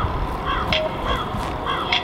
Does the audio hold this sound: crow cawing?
yes